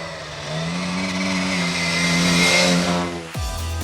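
A historic Mini rally car powers along a stage of the 2016 Rally North Wales, its engine holding a loud, steady, buzzing drone before an abrupt gear change drops the pitch near the end.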